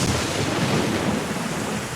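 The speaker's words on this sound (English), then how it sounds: "I heard a crash of thunder mixed in with the rainfall." Torrential rain pours in a steady, dense roar with a deep rumbling crash of thunder mixed in, loud and continuous throughout, from the Higurashi video game.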